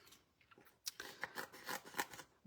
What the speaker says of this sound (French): Fait que je vais venir me couper une petite bande.